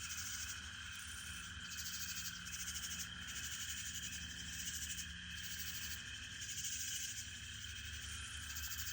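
Frogs croaking and crickets and other insects chirping steadily at night on a Texas homestead, a dense continuous chorus with high buzzing trills over a low pulsing drone, moderately distant and unbroken by talk.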